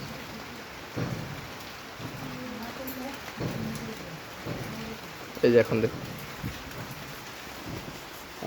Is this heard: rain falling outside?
yes